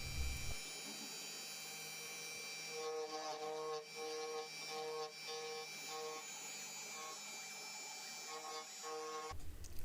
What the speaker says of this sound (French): C'est toujours sympa à regarder une CNC travailler.